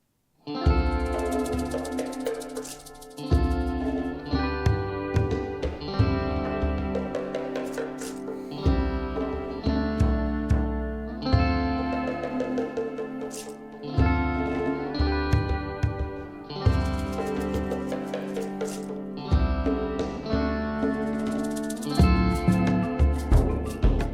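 Tribal Assembly from the RimWorld game soundtrack plays as chill, spacey acoustic guitar drenched in reverb, with repeating strummed and plucked phrases in a steady rhythm, loud and clear with no talking.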